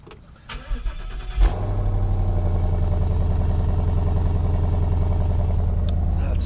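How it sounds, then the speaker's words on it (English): Car engine cold-started outdoors in the morning: a brief crank catches with a loud bark, then settles into a steady, loud, close idle rumble that carries on to the end. "Let's get this outside cold start going"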